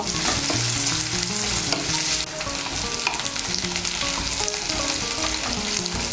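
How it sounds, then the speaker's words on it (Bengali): Chopped onion frying and browning in hot oil, with a loud, steady sizzle and crackle throughout, plus occasional stirring scrapes in the pan; no one speaks. "মিশিয়ে নিয়ে পেঁয়াজ কুচিটাকেও লাল করে ভেজে নেব"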